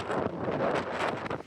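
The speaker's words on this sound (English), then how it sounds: "It's so incredibly windy today." Strong gusting wind buffets the microphone near a footbridge over a railway line, a loud, continuous rumbling roar that surges and eases.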